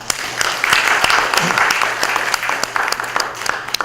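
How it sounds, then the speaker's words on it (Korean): Congregants at an evening Buddhist dharma gathering in a temple hall give steady, warm applause, many hands clapping together at moderate volume for several seconds. "박수 한번 쳐줍시다."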